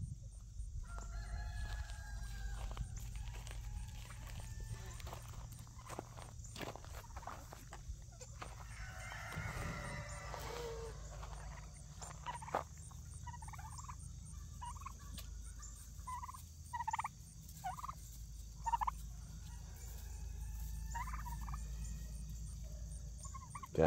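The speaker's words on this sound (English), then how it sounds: "Roosters are acting up." Roosters crow and turkeys gobble on a homestead, with repeated gobbling bursts and crowing calls at moderate distance over a low background rumble, fairly faint overall.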